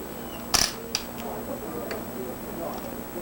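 A Canon 35 mm camera with a wide lens sits on a tripod, its shutter set on B, giving a sharp nearby click followed by a softer click under low room noise.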